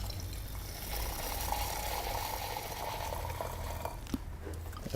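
Soda water poured into a glass for a gin cocktail, a steady fizzing, bubbling hiss of liquid filling the glass, close and moderately loud, with a small clink near the end.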